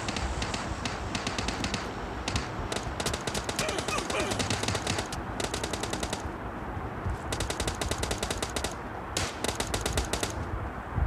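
Rapid automatic gunfire cracks out in PUBG Lite, with dense bursts of sharp shots separated by short pauses and a faint voice in the background.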